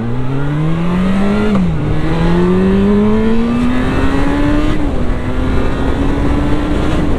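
A Yamaha FZ6 motorcycle engine revs steadily up toward 9000 rpm, a loud, close, continuous whine climbing in pitch with a brief dip and recovery as the throttle is held open.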